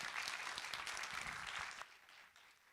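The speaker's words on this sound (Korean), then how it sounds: "문현수 학생에게 박수 한번 부탁드립니다" Brief round of audience applause for a student at a graduation ceremony, steady clapping that fades out near the end.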